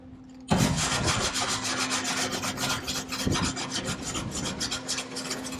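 Welds on a Case 8840 windrower are scrubbed with a wire brush, a loud, close, continuous raspy scratching in quick back-and-forth strokes that starts abruptly and runs to the end.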